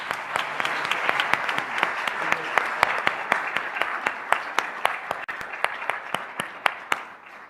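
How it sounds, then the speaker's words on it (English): Steady applause from a modest audience at a university employee recognition ceremony, individual claps distinct, continuing evenly before tapering off. "Let's give them one more round of applause."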